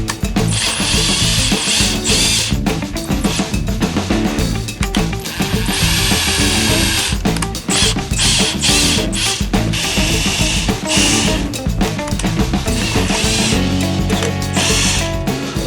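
A power tool mills out holes to 6mm in a Telecaster neck with a rosewood fretboard, making close, loud bursts of whining drilling and grinding, broken by short pauses and restarts.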